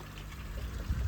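Water from a garden hose pouring steadily into a pond, a continuous close splashing rush with no talk.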